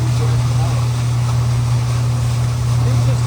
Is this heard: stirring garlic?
no